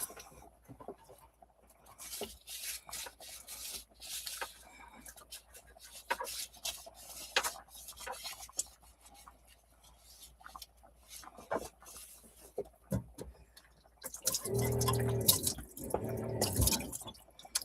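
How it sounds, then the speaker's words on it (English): A pot rinsed and scrubbed in a kitchen sink after cooking plant-based chili: faint irregular drips, rubs and scrapes near the mic, then a louder burst of running water and clatter near the end, with no talk. "I'm just going to give this a bit of a wash."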